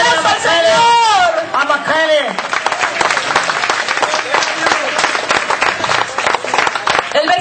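A church congregation breaks into dense, sustained applause at a worship service. The clapping is loud, with voices mixed in at the start, and it fills the whole stretch before thinning slightly toward the end.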